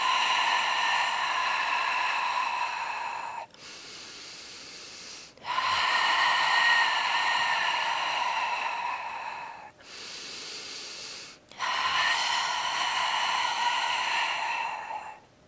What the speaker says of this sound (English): small exhale